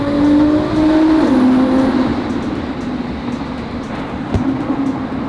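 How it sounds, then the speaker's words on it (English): A widebody 700 HP GTR blasts its exhaust through a tunnel: a loud, sustained engine roar, a rising tone that shifts as the car changes gear, then a sharp crack and a fading echo. "We're here for the tunnel blast."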